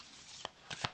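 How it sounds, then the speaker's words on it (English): A deck of playing cards wrapped in vinyl is shuffled, giving a few brief, soft riffling snaps close by in a quiet room. "In fact, it shuffles really nicely."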